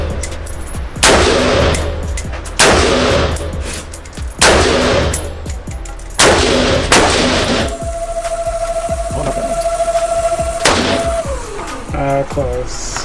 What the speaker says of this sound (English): I feel like rifles are the easiest thing to aim with.